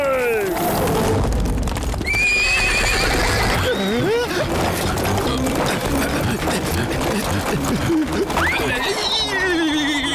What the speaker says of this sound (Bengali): কেউ ঘোড়াগুলোকে থামাও।